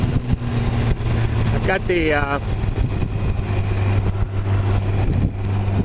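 A Yamaha FJR motorcycle in sport mode cruises along with a steady engine hum and strong wind noise, while the rider talks briefly over it.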